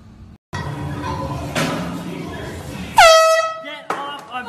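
An air horn is blasted as a prank, giving a loud, sudden blare that cuts through excited chatter and shouting, then trails off as the voices continue.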